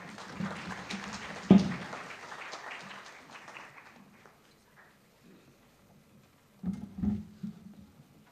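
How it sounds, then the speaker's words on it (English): Applause from a conference audience at an inaugural session, a burst that fades out over a few seconds, then a brief second flurry near the end. "Please have a round of applause."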